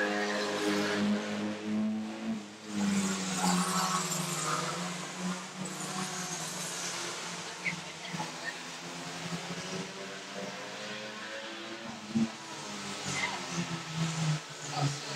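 Stock car racing engines at a banger meeting drone and rev at a distance, a steady layered hum running throughout beneath a commentator's voice.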